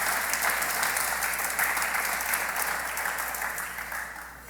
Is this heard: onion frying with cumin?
no